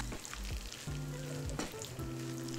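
Steady crackling sizzle of coconut milk hitting a hot frying pan, with occasional stirring scrapes and soft clatters, close and continuous throughout.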